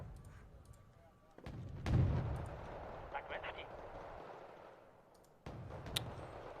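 Mortar artillery fires in the real-time strategy game Wargame Red Dragon, producing sharp cracking launches and rumbling battlefield booms layered over a continuous low combat din, with scattered smaller pops, some near and some distant.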